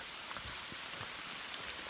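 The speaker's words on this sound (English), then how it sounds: "Well, quite out of the blue, it's raining." Steady rain falls among the trees of a forest, a soft, continuous patter of drops on leaves that fills the whole moment without a break; no one speaks.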